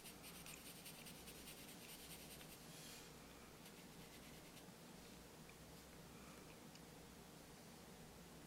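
Graphite pencil scratching across paper in quick, short strokes while drawing whiskers on a face, a steady close dry rasp with no talking.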